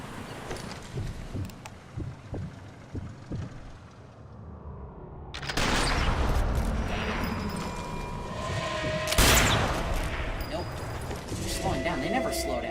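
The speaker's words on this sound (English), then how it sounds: "I gotta hit one of their torpedoes right in the front with my rifle" Rifle shots ring out in Sniper Elite 4, aimed at the torpedo on a moving boat, with two sharp loud cracks standing out over game ambience and someone talking.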